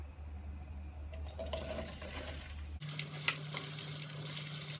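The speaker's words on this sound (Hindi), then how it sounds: "सबसे पहले हम भिंडी डालेंगे और उसको फ्राई कर लेंगे।" Okra goes into hot oil for achari bhindi, giving a steady close frying sizzle that swells abruptly into a brighter, louder hiss partway through, with a low hum underneath.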